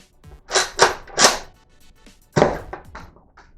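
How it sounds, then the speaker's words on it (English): A Nerf Doomlands Double Dealer blaster is fired, producing a series of sharp close mechanical thunks and snaps, three in quick succession then a pause and another cluster of clacks. "I'm going to try and fire it again."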